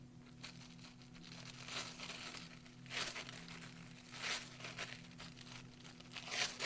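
Thin metal craft foil crinkles and rustles in repeated short bursts of handling, close and quiet, over a steady low electrical hum.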